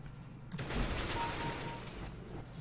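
Shotgun fire in a video game comes as a dense, loud blast of noise that starts abruptly and rolls on for about two seconds, with no voices over it.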